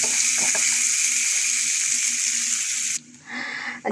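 Onions and spices frying in oil for a beef tripe dish: a loud, continuous sizzle that cuts off abruptly near the end, followed by quieter stirring noise.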